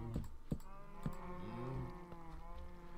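Cows mooing in Minecraft, a video game: a low, drawn-out moo with rising and falling pitch sounds faintly over soft keyboard clicks.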